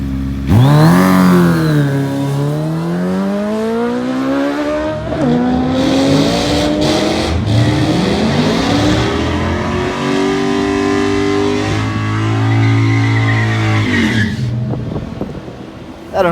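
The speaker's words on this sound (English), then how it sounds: "do you need a burnout? I think it's going to help you. Put a little heat in that tire, clean it off." A Suzuki Hayabusa street drag bike does a loud burnout at a drag strip. The engine revs high and sweeps up and down over a sustained roar of tire noise, with rising pitch in several surges through the whole clip.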